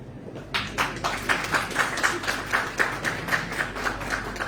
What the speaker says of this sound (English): A big round of applause for her.